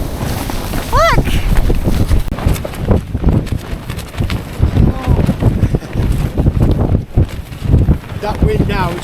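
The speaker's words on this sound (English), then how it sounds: "That wind now is constant 30." Gale-force wind buffets a tent at a mountain campsite, a constant loud roar with heavy gusts on the microphone, while people talk over it throughout.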